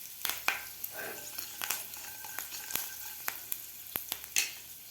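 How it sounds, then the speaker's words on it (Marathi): Cumin, mustard seeds, asafoetida and curry leaves fry in hot oil in a pan, a close steady sizzle broken by sharp crackling pops and spatters, with no voices. "त्यामध्ये आपल्याला घालायचे आता जिरे, मोहरी, हिंग आणि कढीपत्ता. व्यवस्थित आपल्याला हे फ्राय होऊ द्यायचं आहे."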